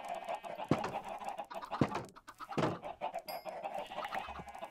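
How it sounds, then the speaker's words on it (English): Chickens clucking in Minecraft, a few short clucks and bird calls at moderate level over a quiet background, with sharp clicks between them. "Come on, chickens."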